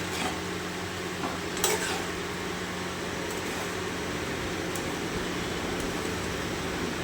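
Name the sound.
stirring boiled ghugni peas in a pan with a spatula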